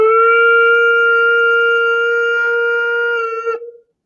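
A human voice imitates a wailing air raid siren, holding one steady, loud, harmonic-rich tone for about three and a half seconds before it trails off, with no other sound around it.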